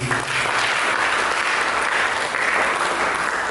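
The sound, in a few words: audience applause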